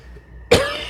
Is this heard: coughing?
yes